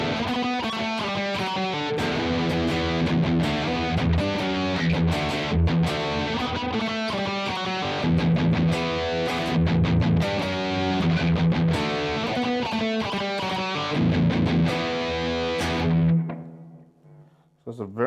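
Epiphone SG Special P90 electric guitar playing a heavily distorted metal tone, loud chugging riffs and chords that ring out and fade at the end.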